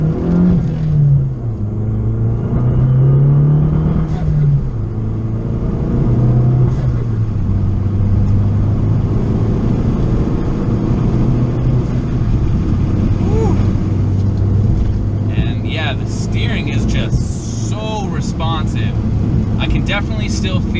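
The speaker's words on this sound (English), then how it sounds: "there's already a nice little blow-off noise before I had the intake, but now with that intake, it just sounds pretty darn ridiculous" Abarth car engine fitted with a new intake and blow-off valve, a loud close droning rumble that rises and falls with throttle, with a blow-off whoosh near the end and a voice talking over it.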